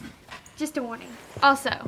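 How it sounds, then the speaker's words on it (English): A dog whimpers and yips close by while a person talks over it. "that's my dog"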